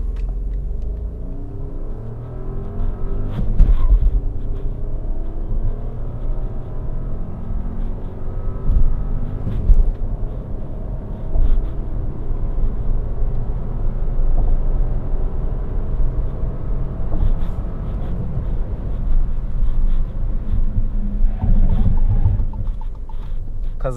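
A Fiat Egea Cross with a 1.0 FireFly turbo engine accelerating from 0 to 100, its low engine rumble and road noise droning steadily from inside the cabin, rising and easing through gear changes.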